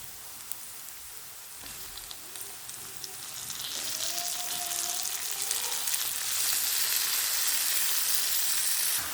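Tomato pieces sizzle in a pan of softened onions for an okra (lady's finger) curry, a steady close frying hiss that swells louder partway through and holds strong to the end.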